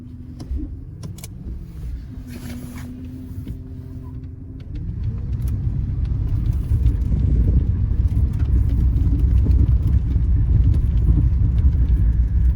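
A Ford Mustang on the move, a low engine rumble that starts soft with a faint whine, then thickens into a louder steady drone and road roar from about five seconds on, heard from inside.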